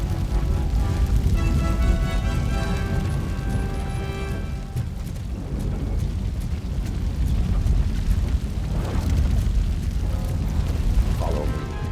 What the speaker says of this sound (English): Fire is blocking the way.